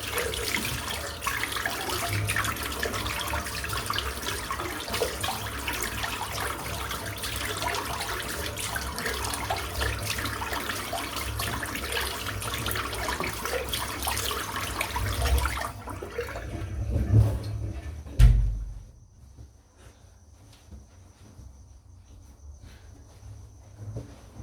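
Hot water runs from a tap over a puck of shaving soap in a steady, splashing stream for about sixteen seconds, then cuts off with a few clunks, leaving quiet room noise.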